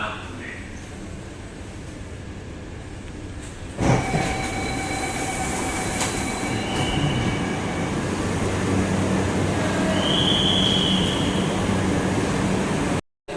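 A Mumbai underground metro train rumbles steadily along, with faint squealing tones and muffled voices in the carriage.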